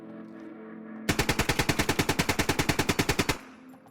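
A G3 automatic rifle fitted with a drum magazine fires in the Squad video game: one sustained burst of roughly twenty rapid, evenly spaced shots, loud and close, ending abruptly with a short echo tail.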